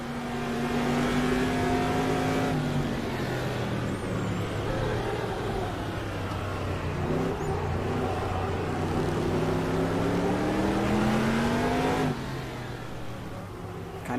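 A Stadium Super Truck engine in the Automobilista racing game drones loudly and steadily, its pitch rising and falling through gear changes and throttle sweeps, with a brief drop near the end.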